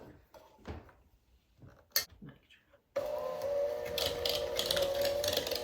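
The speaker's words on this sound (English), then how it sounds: "Cream cheese opened and going in. Yep. Mixer in there." An electric hand mixer starts up in a bowl of cream cheese, a loud steady whirring hum that takes over abruptly after a stretch of talk and kitchen clatter, close to the mic.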